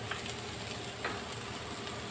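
Onions sizzling steadily in hot oil in a pan while cooking an Arabic-style fish mutabaq, a soft continuous frying hiss with a couple of slightly louder crackles, no voices.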